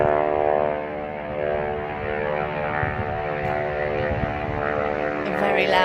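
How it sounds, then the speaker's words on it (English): A loud plane flying overhead outdoors, a steady droning engine roar with a low rumble that holds throughout at close, even loudness, with no talk. "A very loud plane."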